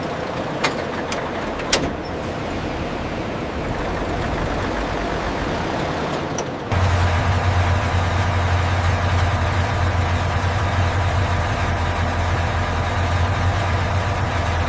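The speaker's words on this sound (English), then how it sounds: "Tank engine start." A heavy tank engine turns over and catches partway through, then settles into a steady, loud, low idle that holds to the end.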